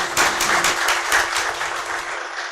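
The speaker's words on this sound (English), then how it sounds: "Please, a round of applause for everybody." An audience gives a round of applause for the speakers at a school of excellence event, a dense steady clapping that fills the room from start to finish and fades slightly at the end.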